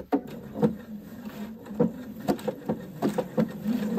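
A Husqvarna sewing machine sews a decorative stitch in stretch fabric with a thick upper thread, giving a quiet, steady motor hum broken by uneven clicking bursts of the needle over a few seconds.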